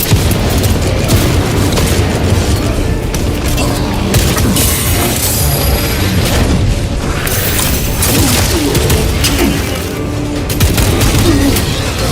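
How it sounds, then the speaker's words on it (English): Loud, dense explosions and battle noise from the video game Warhammer Space Marine 2 as a frag grenade goes off. Heavy booms and crashes fill the whole stretch without a break, with a voice briefly heard among them. "Frag grenade out!"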